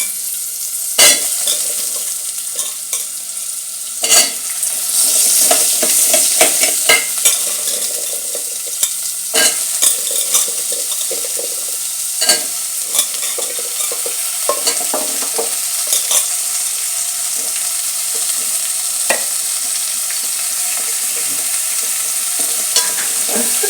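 Washed pumpkin pieces dropped into hot oil with tempering spices, a steady sizzle broken by repeated scraping stir strokes and clatters throughout, close and fairly loud with no voices.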